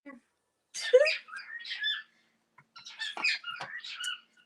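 A pet bird lets out harsh, scratchy squawks and screeches in two close, loud bursts separated by a short pause.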